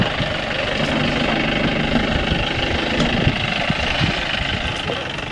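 A two-wheel-drive vehicle strains on a steep off-road climb on the Ambanad route toward Achankovil, its engine droning steadily and labouring throughout, with faint knocking and vibration and no voices.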